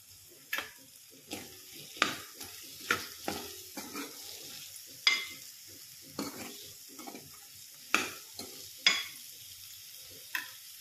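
Drumstick vegetable curry stirred and fried in a pan: a low continuous sizzle broken by repeated spoon scrapes and clinks against the pan, roughly one every second, close and fairly quiet, with no voices.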